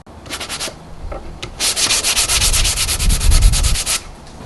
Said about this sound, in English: Sometimes I need to be a little more aggressive, and when that happens I'll actually sand it a little bit.